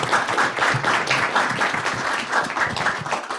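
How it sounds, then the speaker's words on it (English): An audience claps for the panelists at a launch event for a cyberspace policy manual. The applause is dense and sustained, steady and fairly loud throughout. "I would like to thank, first to invite you to thank our panelists with applause."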